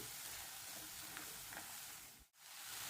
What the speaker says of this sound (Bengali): এবার এই মশলাটাকে প্রায় এক দেড় মিনিট সময় নিয়ে খুব ভালোভাবে কষিয়ে নেব